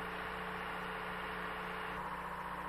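The engine of an asphalt paver tractor runs steadily, a constant loud rumble with mechanical drone and no change in pitch or level throughout.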